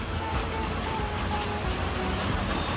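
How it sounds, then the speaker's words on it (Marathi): Heavy rain falls in a loud, dense, steady wash of noise close by, without a break for the full few seconds. "पाऊस खूप जोरात यायला सुरुवात झाला हे बघा"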